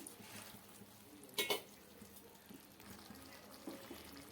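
A little water is poured into a bottle gourd curry in a pan, heard as a brief splash in an otherwise quiet kitchen.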